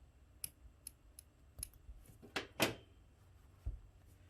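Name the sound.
scissors trimming crocheted yarn end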